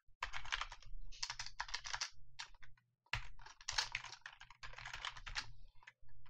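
Fast typing on a computer keyboard while writing code, crisp clustered keystrokes in quick bursts separated by brief pauses, close and clear with a low hum underneath.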